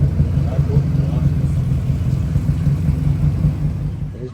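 A tuk-tuk engine rumbles steadily at idle close by, a continuous low mechanical drone with a slight fade at the end, beneath a voice speaking outdoors in Thailand.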